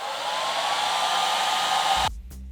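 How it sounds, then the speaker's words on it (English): A hair dryer blows steadily and loudly at close range for about two seconds while drying curly, wavy hair, then cuts off abruptly and leaves a low rumble. "I'm gonna go blow dry it to see if it'll give it like more volume"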